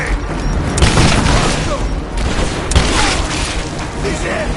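A grenade explosion in Rise of the Tomb Raider, with two loud booming blasts and rumbling debris amid gunfire, big and close.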